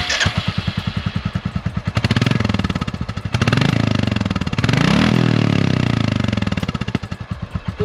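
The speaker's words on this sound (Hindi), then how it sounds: "तो अब इसका एग्जॉस्ट नोट मैं आपको सुना देता हूँ।" A Royal Enfield Classic 350 BS6 motorcycle engine idles with a loud, throbbing exhaust pulse, then revs up several times in swelling bursts before dropping back to a lumpy idle.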